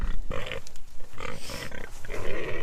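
Several pigs grunt and snuffle close by in short, irregular bursts while being fed, busy and overlapping.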